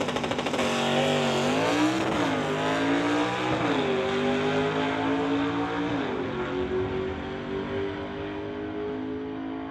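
A Comet hot rod makes a drag racing pass at a strip, its engine roaring loud and continuous while it shifts through several gears with rising and dropping pitch, then fading slightly as it pulls away.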